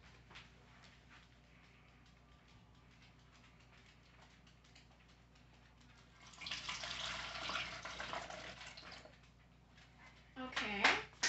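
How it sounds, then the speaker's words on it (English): Hydrogen peroxide for elephant toothpaste pours from a bottle into a container in a short, gurgling stream of liquid, with a second brief splash near the end and quiet ticking background sounds. "we're going to pour the peroxide in."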